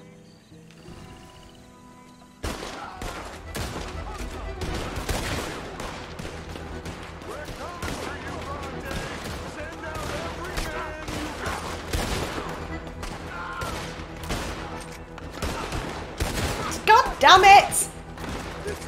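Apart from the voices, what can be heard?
gunshots from Red Dead Redemption 2 video game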